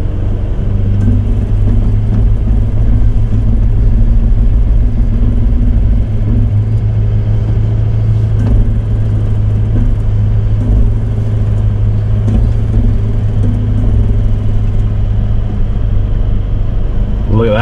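Toyota Landcruiser engine grinding along in low-range crawl control through soft sand, a steady close, loud rumbling drone with faint mechanical whirring that holds without a break.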